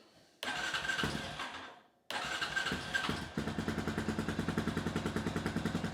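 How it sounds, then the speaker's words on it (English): A Honda TRX350TM ATV electric starter whirs, stops, then cranks again and catches into a steady rhythmic idle, heard close and alone with no talking. "Let's make sure our starter still works here."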